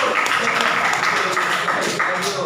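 Classroom applause for a student named Raffi during a history lesson: dense, steady clapping from a group, moderately loud, with a voice over it.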